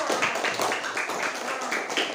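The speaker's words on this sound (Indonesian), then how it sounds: "Betul, semua tepuk tangan." Classroom students clap together in a brisk, fairly loud, rhythmic burst of applause lasting a couple of seconds.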